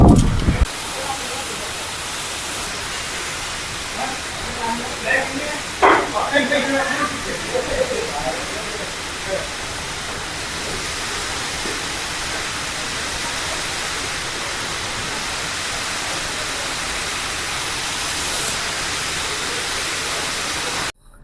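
Rain falls on a boat at sea in Sri Lanka, a loud, steady hiss that fills the whole clip, with a few thuds and knocks early on.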